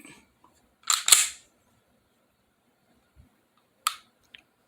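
An upgraded SD40VE pistol trigger resets with a close double click, then gives another sharp click a few seconds later and a faint tick after it, all in a quiet room.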